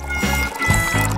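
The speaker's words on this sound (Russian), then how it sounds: "нужно налить на сковороду масло и нагреть его" Cooking oil glugs out of a bottle into a frying pan in a short, loud, close pour with a wet gurgling texture and no talk.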